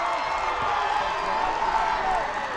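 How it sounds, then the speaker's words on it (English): Crowd at a college baseball game between Boston College and Florida State, a steady roar of cheering and clapping with whoops, with a commentator talking over it. "Big reaction from the crowd."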